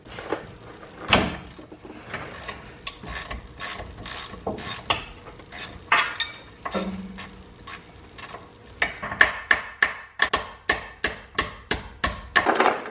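Bolts come off the drive shaft of a Mazda NB Miata during a manual swap teardown, heard as a close series of sharp metallic ratchet clicks and clanks in quick bursts with short pauses, alone without talk.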